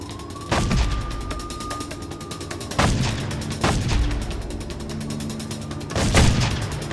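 Gunfire in the video game Made Man, heavy shots landing in four spaced bursts over a low rumble, with mechanical clanks and a faint whistling tone between them.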